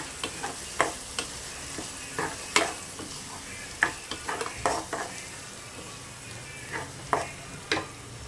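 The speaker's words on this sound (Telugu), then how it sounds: "ఈ ఆయిల్లో బాగా స్మెల్ పోయేంత వరకు బాగా కూడా వేయించుకుంటే సరిపోతుంది." Masala for chicken curry fries in oil while being stirred, with faint sizzling broken by a series of sharp spoon taps and scrapes against the pan.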